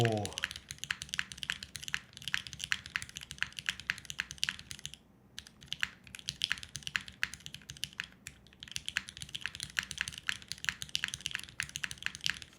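Typing on a new mechanical keyboard, a steady stream of crisp, close clacking keystrokes with a few short pauses, heard alone without talk.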